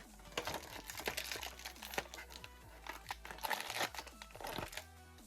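Packaging of a Marvel Legends Gamerverse Spider-Man figure is opened at close range, giving continuous crinkling plastic and cardboard rustles with sharper crackles and tearing snaps, and no talk over it.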